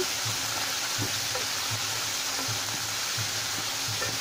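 Spices sizzling and frying in a pan for fish-head moong dal, a steady broadband hiss with soft periodic stirring scrapes roughly every half second, close and continuous, no talking.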